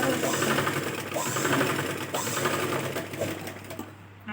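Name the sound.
sewing machine stitching a blouse seam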